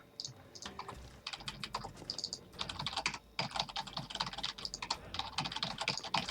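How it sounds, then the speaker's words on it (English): Rapid, irregular bursts of computer keyboard keys being mashed during a real-time strategy game, loud clustered clacks with brief pauses, close and without talk. "I just mash keys and macro"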